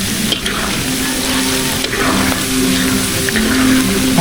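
Food fries in coconut oil with a loud, steady, close sizzle, broken by occasional faint clicks and bubbling, with no speech.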